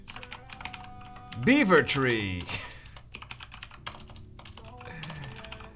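Computer keyboard keys clatter in quick, uneven bursts during a word-guessing game, close and fairly soft, with a person talking and exclaiming over the typing.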